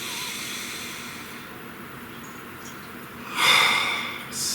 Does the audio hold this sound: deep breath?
yes